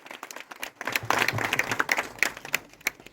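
Audience applause at a Garhwali film event, a dense patter of many hands clapping that swells after a quiet start and holds steady at moderate loudness.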